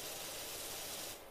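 Steady hiss of a pressure washer jet spraying in Powerwash Simulator, a continuous loud broadband rush that tapers off slightly at the end, with no talking.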